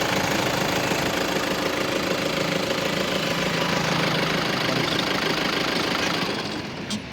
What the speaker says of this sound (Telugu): ఒకసారి చూడండి, మళ్ళీ బండి ఆన్ చేస్తున్నాను.